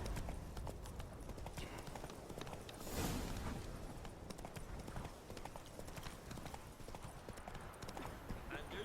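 Horse hooves of Roach galloping in The Witcher 3, a rapid steady clip-clop rhythm that runs throughout, with someone talking over it and game ambience behind.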